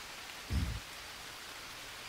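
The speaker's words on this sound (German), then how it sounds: "Obwohl hier ein Fels ist, regnet es." Steady broadband rain hiss in the jungle survival game Green Hell, falling near a rock overhang by a campfire spot, with a brief low thump in the middle and no talk.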